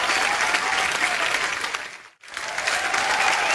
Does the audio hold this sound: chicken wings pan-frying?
no